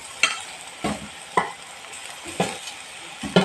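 Fried carrots, freshly added to browned ingredients, being stirred in a pan, five distinct scraping strokes about one per second over a quiet sizzle, close up, no talking.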